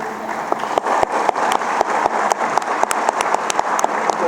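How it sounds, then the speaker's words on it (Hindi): Congregation applause welcoming a guest bishop at a church ordination service, steady crowd clapping with several sharp, nearby individual claps standing out in an uneven rhythm. "हम तालियों से उनका इस्तकबाल करें"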